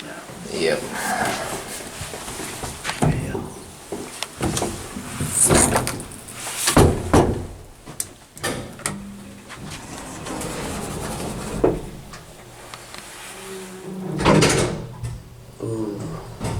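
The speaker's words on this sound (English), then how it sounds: "it's got the satisfying door restrictor." The swing door of an Atlas hydraulic elevator with a door restrictor at the Skycrest Apartments in San Bruno: several thuds and clunks, one sharp bang, and a latching clatter, with people talking throughout.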